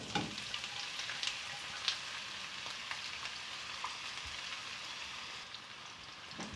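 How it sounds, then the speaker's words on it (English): Chopped onions fry in a pan for a Chettinad fish curry, giving a steady soft sizzle with faint crackles and occasional small pops, close and alone without talk. "And fry the onions"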